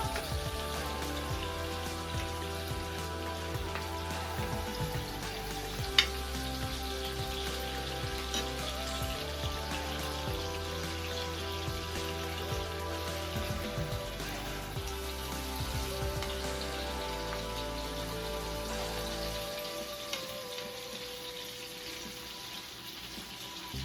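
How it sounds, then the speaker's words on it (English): Saltfish boiling in a pot for Jamaican ackee and saltfish, a steady soft bubbling and simmering hiss that continues unbroken and fairly quiet, with no talking over it. "it's my saltfish being boiled"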